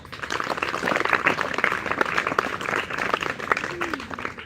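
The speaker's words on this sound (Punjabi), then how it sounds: "ਹਾਂਜੀ ਤਾਲੀ ਮਾਰੋ" Audience at an outdoor street play on drugs and mobile phones in Punjab claps steadily for several seconds, a dense, fairly loud patter with a few voices mixed in.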